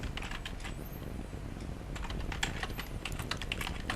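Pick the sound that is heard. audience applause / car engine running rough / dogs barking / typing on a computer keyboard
typing on a computer keyboard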